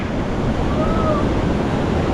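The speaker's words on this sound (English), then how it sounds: "it looks like the waves are a little bit bigger on this side" Ocean waves breaking along the shore at Pacific Beach, San Diego, making a steady, dense roar of surf that fills the whole stretch with no pauses and no speech.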